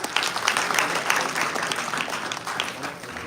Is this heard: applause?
yes